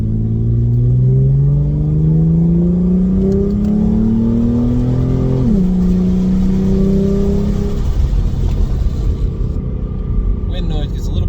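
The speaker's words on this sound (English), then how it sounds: "Let's roll the window down, see if it sounds any different." A 2016 Ford Mustang V6 with a Beluga axle-back exhaust and EX-F02 muffler, heard from inside the cabin with the window down: a loud, deep engine drone rising through the gears as it accelerates, with a brief dip at a shift and wind noise behind.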